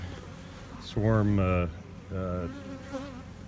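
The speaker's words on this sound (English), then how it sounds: "we've got 4 boxes full of bees" Honey bees buzz close by around a hive, with loud droning bursts that rise and fall in pitch over a constant low background hum.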